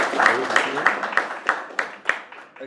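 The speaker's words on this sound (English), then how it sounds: "Let's give Roger a round of applause." Audience applause for Roger Rayle, the volunteer who records and live streams a marketing talk: a sustained burst of clapping from a seated crowd, moderately loud with sharp individual claps standing out, fading toward the end.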